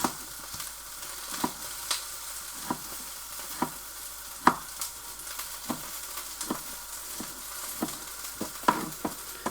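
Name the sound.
pork stir fry sizzling in pan while stirring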